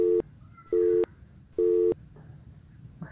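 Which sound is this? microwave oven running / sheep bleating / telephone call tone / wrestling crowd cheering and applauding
telephone call tone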